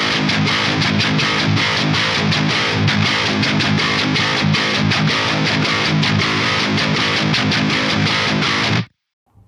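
A loud, driven Jackson electric guitar on its split outer coil pickup plays a riff with rhythmic picked chords and bright, twangy bite, playing continuously before cutting off abruptly near the end.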